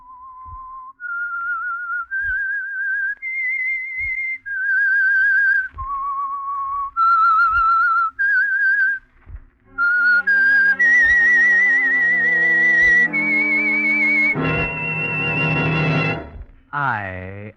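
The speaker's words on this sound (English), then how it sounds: "That whistle is your signal for the Signal Oil Program" A man whistles the eerie signature theme of the old radio mystery series The Whistler, a slow, clear melody of sustained notes that rises, falls and ends on a downward sweep, accompanied by orchestral music in the second half.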